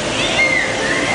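Stingrays in an aquarium tank at the Jenks Aquarium splash and slosh the water in a continuous, close rush, with people's voices mixed in.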